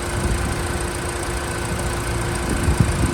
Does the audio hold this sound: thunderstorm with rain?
no